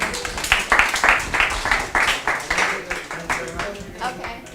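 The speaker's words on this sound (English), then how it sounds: "let's give them a applause" A university first-year English class claps for students, with fairly sparse, rhythmic individual claps in bursts that rise and fall, close by, and a voice briefly audible underneath.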